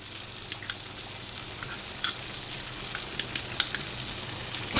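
Garlic cloves frying in butter in a pan give a steady, close sizzle with scattered sharp crackles and pops throughout, no voices.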